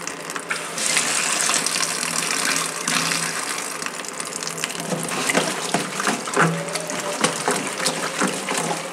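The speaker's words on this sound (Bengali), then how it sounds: "আস্তে করে ট্যাপটা ছেড়ে দেবো আমি।" Tap water gushes steadily into a sink while cow tripe is scrubbed clean, a continuous loud splashing rush with rhythmic rubbing and squelching sounds throughout.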